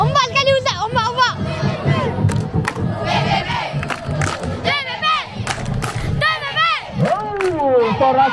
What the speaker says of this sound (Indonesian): sorakan daripada penyokong